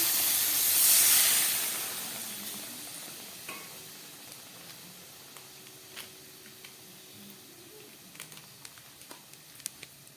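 Water poured into a hot pan of chicken tadka masala gives a loud hissing burst of steam and sizzle, then fades to a quieter simmer with faint stirring clicks.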